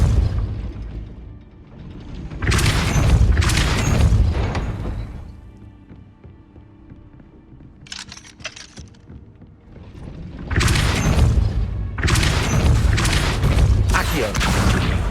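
A gate mechanism grinds and clanks as it rises after a Depulso spell in Hogwarts Legacy, coming in loud bursts that fade to a quieter stretch before starting again strongly near the end.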